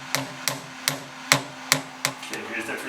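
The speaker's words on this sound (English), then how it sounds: "here's the precision machinist hammer. Oh, I tapped it wrong way" A precision machinist hammer tapping on a metal part: seven sharp, evenly spaced taps about every third of a second, close and clear over a faint background hum, no talk.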